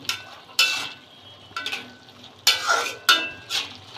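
Flat beans with ground mustard paste are stirred in a pan over a steady sizzle, with several loud scraping strokes of a spatula against the metal at irregular intervals and no talking.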